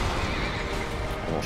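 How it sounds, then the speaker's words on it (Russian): A horse in the video game Dark Souls 2 neighs loudly in a harsh, close whinny amid rumbling game noise, with no talk. "Лошадь падает."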